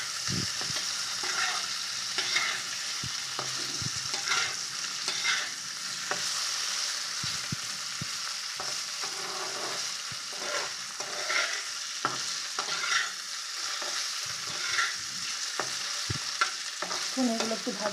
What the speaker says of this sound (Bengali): হালকা পনিরগুলোকে ভাজবে, বেশি হবে না।